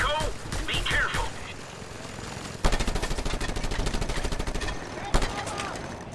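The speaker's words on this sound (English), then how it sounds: "They've got mounted gunners, Rico. Be careful." Mounted machine guns rattle in a Just Cause 2 firefight, with long sustained bursts of rapid fire, distant booms and mixed battle noise. A voice speaks briefly over the action.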